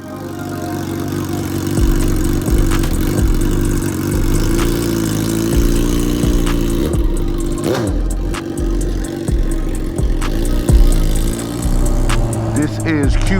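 Honda Gold Wing GL1000 motorcycle engine rumbling steadily while riding along quiet country back roads, a continuous loud drone with small shifts in pitch and a few brief wind bumps.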